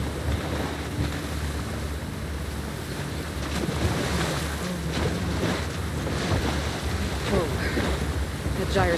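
Rough sea churned up by a gyre in Horizon Forbidden West: a steady, close roar of surging waves mixed with wind noise, continuous throughout with no clear breaks.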